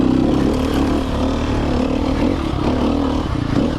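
A Sherco four-stroke trials motorcycle engine runs close and loud, a steady low throb with slight rises in revs throughout and no speech over it.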